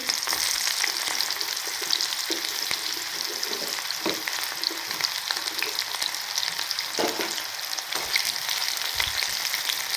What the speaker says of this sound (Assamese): কেৰাহীত ধুনীয়াকৈ তেলটো গৰম হ'বলৈ দিলোঁ। দি পেলাই ইয়াতে পিঁয়াজখিনি দি দিম।